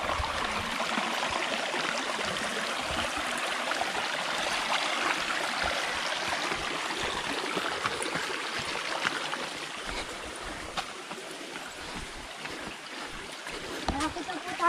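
A river stream rushes along a forest trail near a secret falls, making a steady broadband wash for about fifteen seconds while people talk faintly over it.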